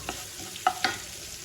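Frying food sizzles steadily, with a few brief crackling bursts as chopped leafy greens are dropped into the hot pan; no voices.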